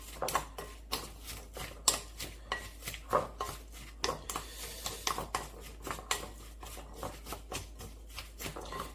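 Perilla leaf kimchi seasoning with garlic, sugar and sesame seeds being mixed in a bowl, a run of quick, close, regular tapping and scraping strokes, loud and alone.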